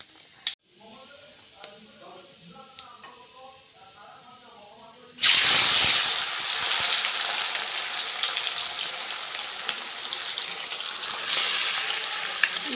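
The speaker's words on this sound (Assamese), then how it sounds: "এয়া তেল দিলোঁ মই, পাঁচফোৰণ দি দিছোঁ, শুকান জলকীয়াও দি দিছোঁ দুটামান।" Panch phoron and a couple of dried chillies hit hot oil and burst into a loud, steady sizzle that carries on for several seconds, following a quieter stretch of faint talk and clinks.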